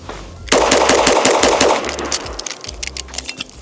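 A Glock pistol fires a rapid string of rounds from a Mec-Gar steel magazine, loud close sharp reports in quick succession that trail into a few scattered shots and echoes.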